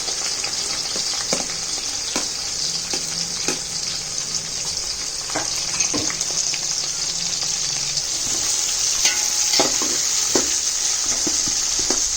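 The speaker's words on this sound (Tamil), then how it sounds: "நல்லா கிளறி விடுங்க. வெங்காயம் நல்லா பொன்னிறமா வரணும்." Onions frying in oil for chicken biryani while being stirred, giving a continuous bright sizzle with repeated scraping stirs against the pan, close and steady for the whole stretch.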